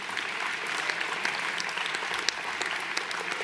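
A ceremony crowd gives sustained applause for police and emergency services at a 2020 New Year's civic gathering, dense steady clapping throughout with a few sharper claps standing out.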